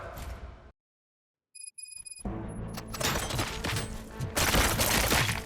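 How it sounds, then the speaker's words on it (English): Bursts of gunfire from the video game Robocop: Rogue City break in after a brief silence and some chiming tones, growing into dense, loud volleys of shots and impacts through the back half. "Gunshots? What's going on?"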